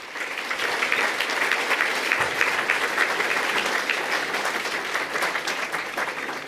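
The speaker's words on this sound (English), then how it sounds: "Let's give Joe Szabo a big round of applause." Steady, dense audience applause after a public service award at a Chicagoland comprehensive planning event, a broad even clatter of many hands clapping throughout with no break.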